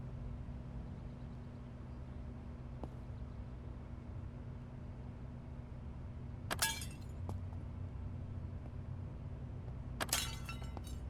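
Hanging glass being broken in the zombie survival video game VEIN: two brief, crisp shattering crashes several seconds apart, with a small clink between, over a quiet steady hum.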